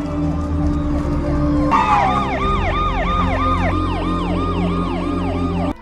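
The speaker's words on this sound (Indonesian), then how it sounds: "mendengar suara sirene mobil polisi yang datang" A police siren bursts in loud and close, wailing in rapid, repeating rising-and-falling sweeps over a low engine rumble.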